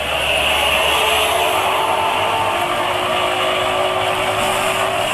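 A motorcycle engine roars steadily and loudly throughout, revving under acceleration with a constant droning tone and wind noise.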